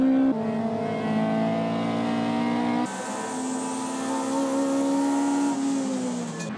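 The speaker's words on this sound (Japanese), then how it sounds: "2 ヘアピン、立ち上がり加速勝負だ。" Toyota AE86 race car accelerating out of a hairpin during a racing event, engine note rising loud and close through a gear change and pulling hard toward the end.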